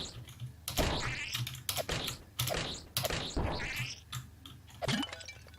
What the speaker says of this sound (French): Si vous entendez mon clavier